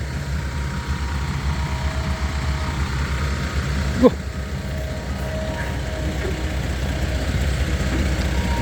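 A newly acquired excavator sits idling, its engine a steady, continuous low rumble at close range, broken only by a single sharp metallic knock partway through.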